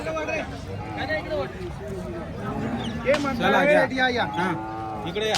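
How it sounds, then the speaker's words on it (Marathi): Bulls mooing at a crowded cattle market, several long, low, wavering moos one after another, nearby and prominent over a background of people talking. "बैल"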